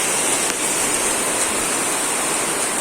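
Heavy monsoon rain pours steadily over a maize field, a dense, loud, unbroken hiss with no pauses or voices.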